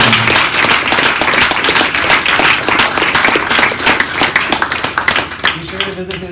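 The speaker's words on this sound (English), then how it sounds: "Big round of applause" A lecture audience gives speaker Eric Brightwell a round of applause, dense close clapping filling nearly the whole stretch before thinning out at the end as a voice begins.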